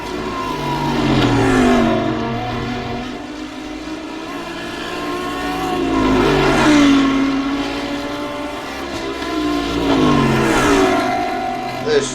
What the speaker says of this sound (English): Cars bouncing across the curbs.